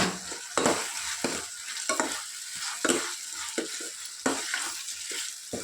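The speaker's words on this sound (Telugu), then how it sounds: "ఇప్పుడు వీటిని కొద్దిగా ఇలా చేస్తే మ్యాష్ అయిపోతాయి" Softened tomatoes in a frying pan are pressed and stirred with a utensil, giving a series of close wet scraping strokes over a steady sizzle.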